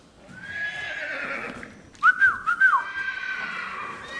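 A horse neighs in a loud, shrill whinny over a soft, continuous background, with short whistle-like tones and possible faint hoof clops near the middle.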